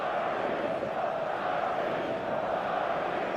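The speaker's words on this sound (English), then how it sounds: "the matchday noise at this place is truly special" Dense, steady roar of a stadium crowd at a football match in the video game eFootball 2025, on a clear evening, a continuous loud wash of massed voices and chanting with no pauses.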